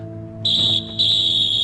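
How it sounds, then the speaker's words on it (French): A referee's whistle sounds in an anime football match, two sharp shrill blasts in quick succession with a brief gap between, loud and close over faint background music. "Le coup de sifflet vient de retentir."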